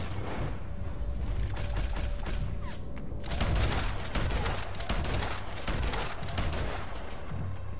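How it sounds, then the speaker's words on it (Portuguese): Heavy naval guns boom repeatedly from a big warship in a naval combat video game, a dense barrage of loud overlapping blasts and rumbling impacts filling the whole stretch without speech. "O naviozão tá que taca bomba,"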